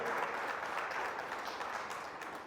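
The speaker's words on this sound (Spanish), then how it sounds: "Dele un aplauso al Señor" A church congregation claps together in steady, continuous applause that stays loud and even for the whole stretch, with a faint murmur of voices underneath.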